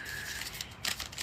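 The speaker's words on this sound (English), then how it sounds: "We're going to keep shuffling." A tarot deck being shuffled, with quiet papery card riffles and soft slaps that swell briefly near the end against a faint steady background hum.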